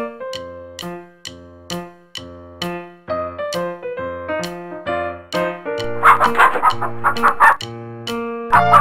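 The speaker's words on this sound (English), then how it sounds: "Chicken." Chicken clucking in a rhythmic series of loud, evenly spaced clucks, followed near the end by a quick run of excited squawking cackles, with no talking.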